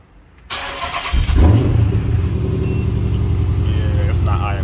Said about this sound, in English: Might give it a little cold start.